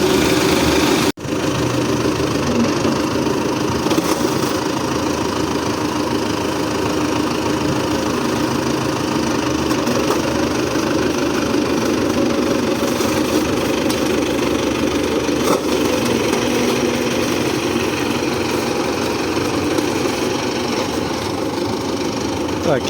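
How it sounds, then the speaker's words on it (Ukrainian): A heavy diesel tractor engine rumbles loudly and steadily for over twenty seconds as the tractor drives onto a truck, with a sharp click near the start and faint clanks over the drone. "Зараз буде трактор заїжджати"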